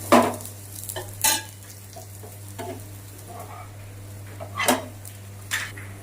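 Oil sizzles in a pan while a traditional Gujarati dish fries, a soft continuous crackle under a steady low hum, punctuated by several brief scraping and stirring bursts from a spatula.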